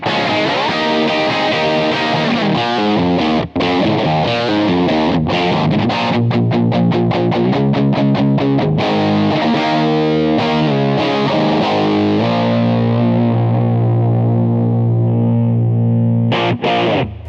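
An electric guitar played through a DSM & Humboldt Dumblifier overdrive pedal, loud and continuous, with driven chords and rhythmic riffs, some choppy muted strums, then sustained ringing notes, no voices.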